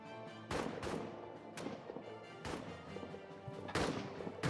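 Sharp gunshots crack out along a World War I trench firing line in All Quiet in the Trenches, a handful of distinct reports spaced over a steady low battlefield din, fairly faint overall.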